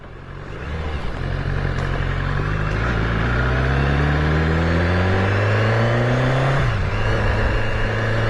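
A steady BMW S1000RR motorcycle engine revving close by, its pitch climbing gradually over several seconds before dropping briefly and rising again, loud and continuous.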